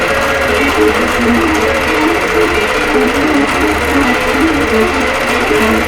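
A longarm quilting machine stitches a pantograph design onto a quilt, its needle giving a fast, steady mechanical rattle and hum. The sound is close and continuous, with no speech.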